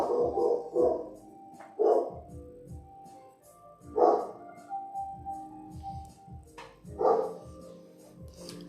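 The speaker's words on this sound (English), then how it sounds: "Such a deep voice from a small dog." A small dog barking in an unexpectedly deep voice, with repeated loud barks in bursts over several seconds, close by, with some faint background voices.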